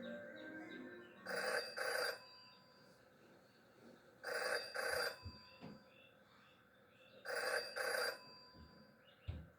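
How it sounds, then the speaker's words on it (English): A telephone in the game Jenny LeClue rings in three separate double bursts, evenly spaced with quiet gaps between them, sounding clear and fairly close. "Jenny had learned never to ignore a ringing phone"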